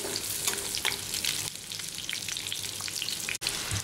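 Indian gooseberries (amla) cooking in a pan over a medium flame for murabba, giving a steady close sizzle and frying crackle with scattered pops throughout, no voices.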